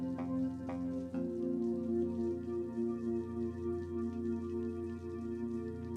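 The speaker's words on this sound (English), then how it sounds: "we bring the rain back at the end" Steady rain patters continuously beneath a sustained tonal musical drone, soft and even throughout.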